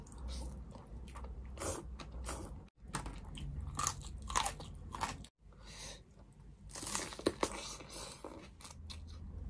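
Someone eats spicy Thai papaya salad mixed with rice noodles, biting and chewing with loud, close, wet crunches in uneven bursts and a couple of brief pauses.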